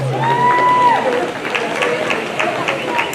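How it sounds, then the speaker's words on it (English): At a county livestock show with Duroc hog classes, the crowd claps for exhibitors, scattered applause under an announcer's voice, with a faint whistle early on. "let's give your exhibitors here in your Chester drive a round of applause"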